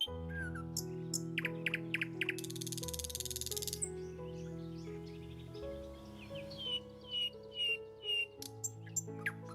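Small birds chirp and tweet around a teacup bird feeder in a garden, bursts of high, quick calls with a few rougher croaking and squawking notes, moderately close with no talking.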